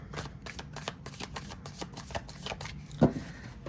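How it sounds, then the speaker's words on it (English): Nova Mundi tarot deck with glossy Llewellyn cardstock being shuffled by hand, a steady run of crisp, close riffling flicks and slaps with one sharper snap near the end, no voices. "Easy to shuffle."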